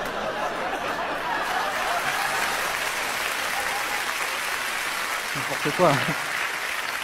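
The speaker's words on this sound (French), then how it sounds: "Ils sont contents, ils applaudissent" Steady applause from an audience fills the whole stretch, with a brief voice and a short burst of laughter near the end.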